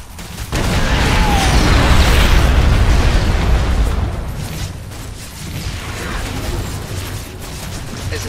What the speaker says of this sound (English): The gun is destroyed!